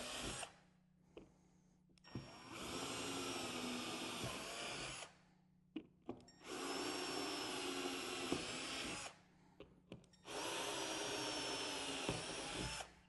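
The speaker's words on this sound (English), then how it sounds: "So I'm going to drill those 4 holes now." Three long bursts of a power drill whirring through material while drilling holes for a motorcycle saddlebag subwoofer port, each running a few seconds with pauses and clicks between, close and loud.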